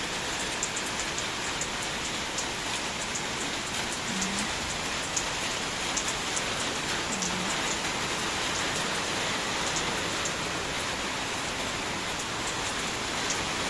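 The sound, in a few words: rain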